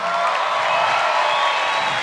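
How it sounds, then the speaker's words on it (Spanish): Studio audience applause with light cheering, a steady wash of many hands clapping at even loudness for two seconds, without speech over it. "un aplauso para ellos,"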